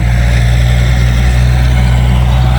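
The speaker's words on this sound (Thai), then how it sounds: "เสียงรถไถกะโลกขวน" A loud, steady drone from a two-wheel walking tractor engine ploughing a garden, with a deep rumble, continuous and close, with no voices.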